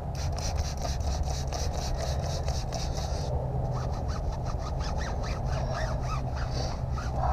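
A cloth rag with soap and water is rubbed over a motorcycle tire on a Harley-Davidson 48. The wiping runs as steady, close scrubbing strokes throughout, with a faint squeak here and there.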